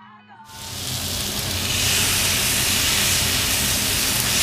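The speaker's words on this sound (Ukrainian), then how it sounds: "Кладемо стейки на сковорідку." Loud, steady sizzling of two large pork steaks frying in a hot pan, bursting in abruptly after a brief quiet moment and continuing with a dense crackling hiss.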